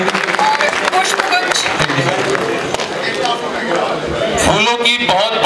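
A crowd at a Republic Day celebration and birthday greeting claps loudly and continuously, dense applause mixed with cheering and chatter throughout.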